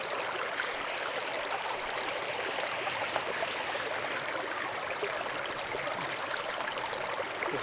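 Water running steadily toward the Gerbe d'eau cascade at the Bassin de St-Ferréol, a continuous broad rushing wash, even and fairly loud throughout with no voices.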